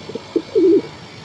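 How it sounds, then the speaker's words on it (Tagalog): Pigeons coo close by in a short sequence: two soft brief notes followed by a longer, louder rolling coo, with no talking. "Ayan yung anak nila mga kalapatids."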